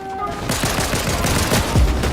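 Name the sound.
shotgun gunfire from the video game Fortnite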